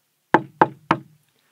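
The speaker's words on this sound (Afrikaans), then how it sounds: "toe kom daar weer 'n klop." Three sharp knocks on a door in quick, even succession, loud and close, followed by silence.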